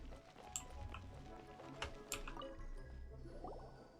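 Water being collected in a video game, with soft squishing and dripping liquid sounds, a few sharp splashy clicks, and a faint fill-like gurgle over a steady low game background, no talk.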